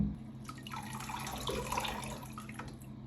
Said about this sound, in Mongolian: Одоо усны танкында яг энэ зураасан дагуу тал хүртэл нь ус хийж оруулах юм аа.